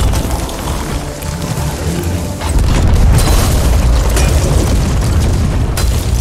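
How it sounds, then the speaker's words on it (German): Ship cannon fire in the pirate video game Sea of Thieves, heavy booming blasts and rumbling that swell into a dense, loud, continuous roar midway through, with no talking. "Du kannst aber auch mit den Kanonenkugeln schießen, die hier unten sind, ne? Mit den Kanonen."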